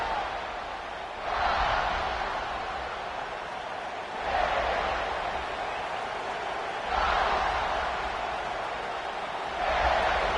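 Stadium crowd roars at a college football opening kickoff with the Gamecocks, broad sustained cheering that swells in repeated waves every few seconds, loud and continuous throughout.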